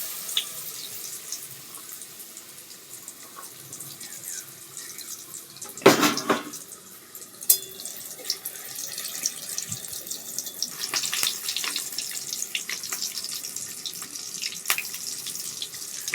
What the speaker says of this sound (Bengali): ভালো করে সুন্দর করে ভেজে নেবে চপগুলো